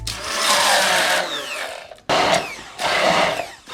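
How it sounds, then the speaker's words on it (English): Electric hand mixer fitted with an accessory pressing Greek yogurt parfait ingredients with berries and granola in a container, a loud steady whirring motor in three bursts with brief pauses between. "I used another accessory of the hand mixer"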